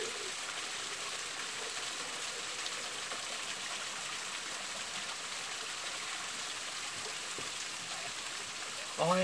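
Running spring water on Mount Wellington, a steady broadband rush of flowing water that holds constant throughout, close and continuous, with a brief louder splash near the end.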